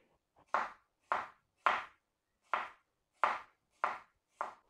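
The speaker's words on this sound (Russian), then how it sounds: "Берем огурец, нарезаем его кольцами." Seven crisp knife chops slicing a cucumber into rings on a cutting board, evenly spaced at a steady rhythm, close and clear with a quiet background.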